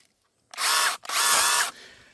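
A DniproM power saw cuts through dry pear tree wood in a garden, two loud sustained bursts of cutting noise each lasting about half a second, separated by a brief pause, then a quieter tail.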